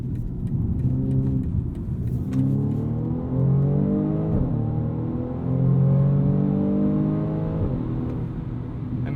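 A 2020 BMW M235i Gran Coupe's four-cylinder engine pulls hard through several rising gears, a loud, close, continuous rasp climbing in pitch, briefly dipping at each shift before surging again.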